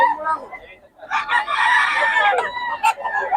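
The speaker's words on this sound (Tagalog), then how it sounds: "Ganda ng manok ni Boss Tony, mga idol." A chicken lets out a loud, raspy crowing call, close by, with some short clucks around it.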